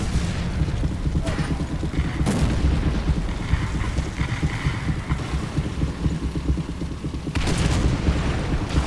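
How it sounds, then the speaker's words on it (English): Incoming artillery explosions in War Thunder during an M4A1 Sherman medium tank battle: deep rumbling booms and throbbing engine noise fill the scene continuously, loud and dense, with sharper blasts standing out now and then. "Artillery's coming in."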